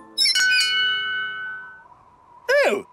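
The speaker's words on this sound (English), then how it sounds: "Let's ring the bell." A cartoon bell at a castle in the clouds rings out with two quick bright strikes and a long, slowly fading tone, then a short swooping squawk-like sound follows.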